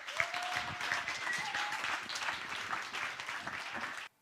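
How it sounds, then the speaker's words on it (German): A church audience applauds to welcome guests onto the stage, with dense, steady clapping filling the room for about four seconds before cutting off. "mit einem riesen tobenden Applaus da auf der Bühne begrüßen"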